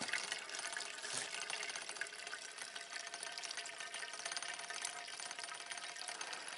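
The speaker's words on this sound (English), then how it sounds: "keep it siphoning until you get right to the bottom of this tank" A brass jiggler siphon draws gasoline out of a tank, a faint, continuous gurgling and rattling hiss with fine rapid clatter throughout and no talking.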